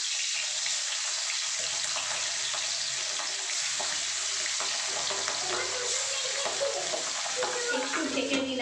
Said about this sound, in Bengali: তেল গরম হয়ে গেছে, আমি পাবদা মাছগুলো দিয়ে দেবো।